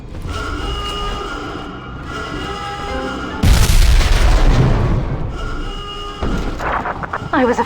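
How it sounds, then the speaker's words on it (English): Heavy explosive boom from bombed-out ballast compressors in the underwater city of BioShock 2, a broad loud blast bursting in mid-clip and rumbling for a few seconds, with game voices and ambient tones around it. "Mother has bombed out the ballast compressors."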